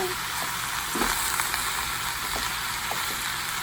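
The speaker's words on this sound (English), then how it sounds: "I'm going to throw some garlic in here, and then we are going to let this saute up and cook down" Vegetables and garlic sauteing in a pan, a steady loud sizzle and crackle of frying with occasional stirring clicks, no talk.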